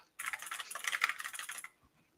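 Royal Kludge mechanical keyboard being typed on, a brisk burst of close, crisp key clicks for about a second and a half before it stops, with no voices.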